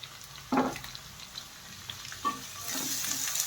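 Capsicum and onion with curry leaves fry in hot oil, a soft steady sizzle broken by a few sharp stirring scrapes, close and fairly quiet.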